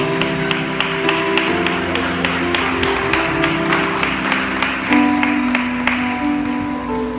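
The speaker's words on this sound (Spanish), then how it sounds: "Denle fuerte el aplauso al Señor." Church congregation clapping steadily during a sermon, a dense wash of hand claps with sustained organ or keyboard chords underneath throughout.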